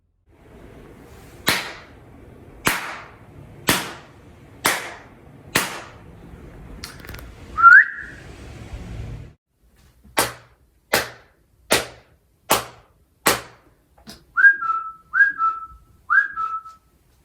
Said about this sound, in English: you can hear a before and after as I clap my hand against my leg